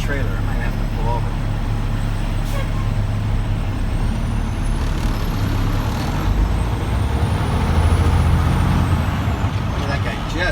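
A 2013 Peterbilt 386 daycab tractor with a 450 HP Cummins diesel rumbles steadily on the road from inside the cab, a continuous low drone with faint road and wind noise and brief hisses throughout.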